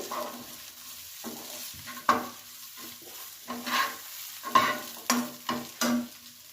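Eggplant sautéing in a pan with cumin and coriander powder, stirred in a steady rhythm of scraping strokes and soft thumps over a low sizzle, close and clear with no talking.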